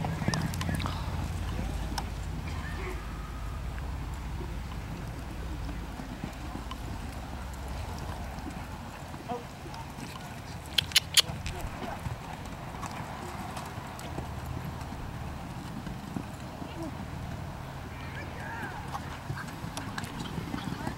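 Horse hooves clip-clop through a pole-bending run at a barrel racing event, a steady fast patter under constant arena noise and a distant announcer's voice.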